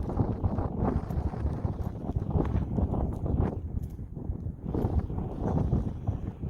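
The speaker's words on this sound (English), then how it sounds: "Got a little snow squall coming through here, and the wind's starting to pick up." Wind rising in an open cattle pasture during a snow squall, buffeting the microphone in rough, swelling gusts with brief lulls between them, no one speaking.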